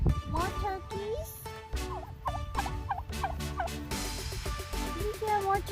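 Turkeys gobble repeatedly at a farm with other animals. The rippling, warbling calls come close and loud in quick bursts. People talk and call out in the background.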